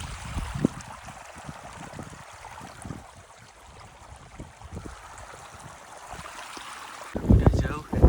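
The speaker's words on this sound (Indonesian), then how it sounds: "Diiringi air mengalir terus" Water flows steadily along a mountain trail on the slopes of Lawu, a continuous soft rushing wash mixed with wind and the footsteps of a trail runner, ending with brief louder handling noise.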